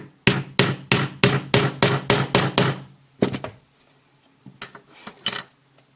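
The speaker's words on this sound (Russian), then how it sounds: "Наставляем сюда на шляпку и молотком" Nine sharp metallic hammer blows in a steady rhythm on a hand rivet-setting tool, close and loud, followed by a few lighter taps and clinks.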